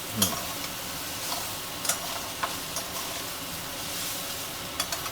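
A utensil stirs chicken cooked with ginger-garlic paste in a hot pan for chow mein. A steady sizzle runs throughout, broken by several sharp metallic scrapes and clicks, with no talking.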